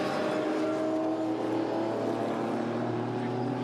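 GT race cars, a Porsche and an Aston Martin, roar past on a circuit during an endurance race, a continuous loud engine drone with tonal whine holding steady throughout.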